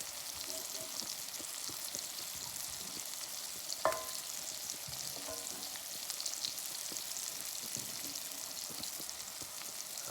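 Red onions grill over a portable 9-inch Blackout Stove, a constant close frying sizzle with faint crackles and one brief louder pop partway through.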